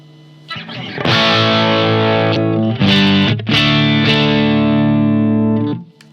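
Electric guitar through the 1987X amp model on a NUX MG-50 Li with no impulse response, strummed distorted chords ringing loud and bright in three bursts with short breaks, then fading out.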